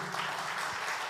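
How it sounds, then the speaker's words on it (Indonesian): A short, steady patter of applause from a church congregation during worship praising God. "Beri tepuk tangan dulu untuk Tuhan kita."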